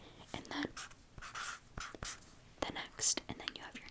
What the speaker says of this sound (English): You need to be able to touch the Sharpie, whatever you're using, onto the paper.